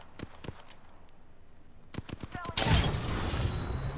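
Sharp gunshots from the video game Apex Legends crack in a few scattered bursts, followed by a brighter, noisier burst of game sound near the end, all under quiet voice chat.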